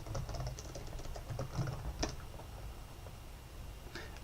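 Someone types a database command on a computer keyboard, a soft, fairly quiet run of irregular key clicks with a few sharper taps.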